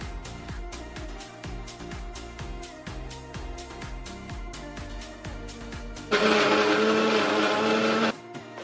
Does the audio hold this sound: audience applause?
no